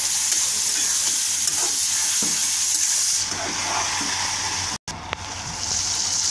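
Tomatoes cooking in a pan for chicken pasta, a steady close sizzle with occasional stirring scrapes and one brief dropout.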